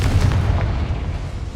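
A Confringo spell in Hogwarts Legacy bursts into a deep, booming explosion that rolls on and fades over a second and a half, loud and heavy in the low end.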